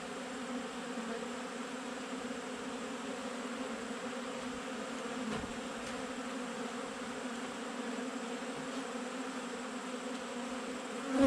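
Honey bees from an open, opened-up hive hum in a steady, dense drone close by, holding an even level throughout with no voices.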